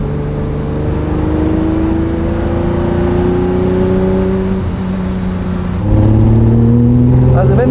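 A 1968 Ferrari 365 GT 2+2 V12 engine revving, its tone climbing steadily as the revs rise, easing off, then jumping louder for a second harder pull near the end, heard close and dominant.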